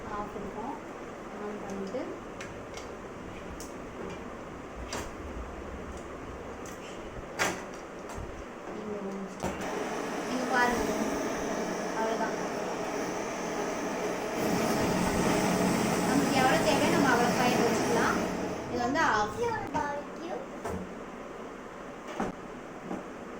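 A butane gas fire gun torch is switched on and throws a steady, hissing roar of flame that swells midway and holds for several seconds, with a person talking nearby throughout.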